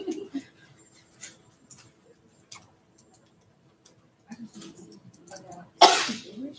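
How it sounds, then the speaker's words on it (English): A sharp, loud sneeze bursts out near the end of an otherwise quiet stretch with faint ticking and soft murmured sounds before it. "Sorry, guys, I sneeze a lot."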